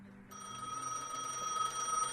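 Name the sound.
phone ringing in Gas Station Simulator video game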